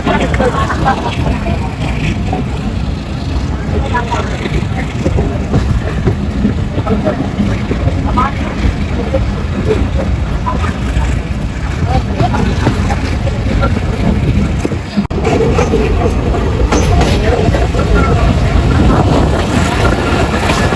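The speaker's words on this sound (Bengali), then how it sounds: "আমাদের ট্রেনটি ঘোড়াখালী রেল স্টেশন পার করছে" Continuous low rumble of the Bhatiapara Express passing Ghorakhali railway station and bridge, with wind buffeting, steady and loud throughout, with faint voices underneath.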